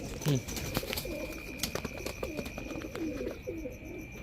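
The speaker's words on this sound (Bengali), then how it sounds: "সব পাকিস্তানি রানিং কবুতর।" Pakistani teddy pigeons coo in a loft, repeated soft throaty rolling calls close by over a quiet background.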